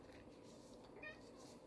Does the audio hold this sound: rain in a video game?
no